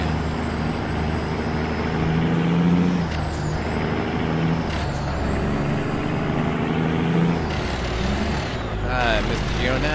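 A Kenworth K200 truck in American Truck Simulator drones steadily, its engine pitch rising and dipping as it shifts through gears, with high whining tones and hissing air releases.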